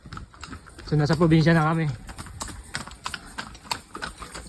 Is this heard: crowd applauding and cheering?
no